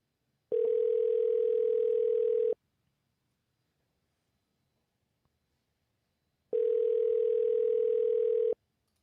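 A telephone voicemail beep, a steady electronic tone sounding twice, each lasting about two seconds with a long silent gap between, clear and close.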